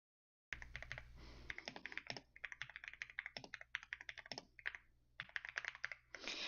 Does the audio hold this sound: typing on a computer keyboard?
yes